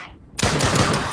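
After a brief quiet moment, a rapid burst of gunfire from the VR zombie shooter Drop Dead: Dual Strike erupts close and loud, ringing out densely until the end.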